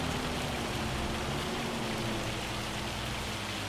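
Hail pours down in Farming Simulator 25 as a dense, steady hiss of countless impacts, loud and unbroken throughout with no voices.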